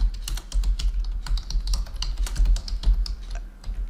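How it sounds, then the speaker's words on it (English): Fingers type a search phrase on a computer keyboard, a close, quick run of crisp key clicks in an irregular rhythm, with no talking. "I can do that by typing here PowerPoint for beginners."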